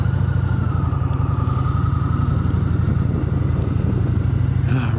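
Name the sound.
Indian Chieftain Power Plus Limited motorcycle engine running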